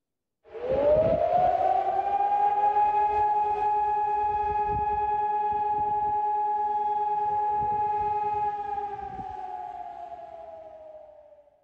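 A single long civil-defense siren tone swells up, holds steady for several seconds, then fades, sounding loud outdoors at a memorial ceremony for Botev's anniversary in Sofia's Borisova Garden.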